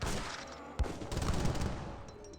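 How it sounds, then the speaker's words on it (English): A musket volley in Age of Empires 3, a dense crackle of overlapping shots with a sharp burst just under a second in, fading over the following moments. "It's a volley there."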